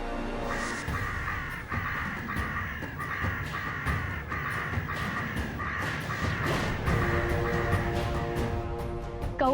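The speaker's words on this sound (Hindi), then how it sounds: "कौवे तो आएंगे ही ना" Crows caw repeatedly and loudly, many harsh overlapping calls in an uneven stream, close by and continuing throughout with no talking.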